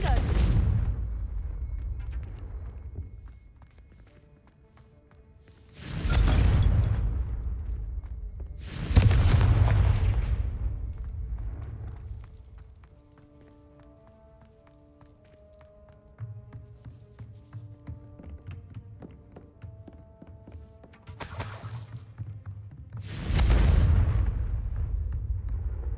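Confringo blasting spells exploding in Hogwarts Legacy, several loud booming blasts spaced across the stretch, each with a rumbling tail, between quieter game music and ambience, with a voice speaking at times.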